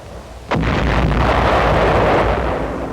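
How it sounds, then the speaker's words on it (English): A 1945 naval bombardment of enemy shore installations: one sudden, powerful blast followed by a sustained, loud roaring rumble that barely fades. "Navy opens up against shore installations."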